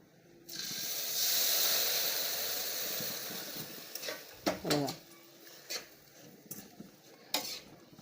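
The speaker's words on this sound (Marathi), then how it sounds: "दूध ओतून असं परतून घ्यायचं" Coconut laddu mixture roasting in a pan as milk is poured in, a loud hissing sizzle swelling and fading, followed by close scraping and clinking stirs of a spatula against the pan.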